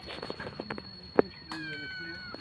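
A cat meows amid people talking nearby, with a brief, sharp meow standing out over the conversation.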